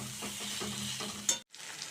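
Spice mix stirred and fried with vegetables in a pan for a hilsa fish dish, a steady close sizzle with repeated scraping stirs, a sharp clatter near the end, then a brief silence before frying resumes.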